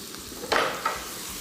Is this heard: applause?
no